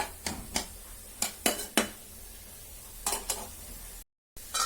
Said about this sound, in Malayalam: ഈ കടന്ന് ശരിക്കും ഒന്ന് വഴറ്റിയെടുക്കണം കേട്ടോ.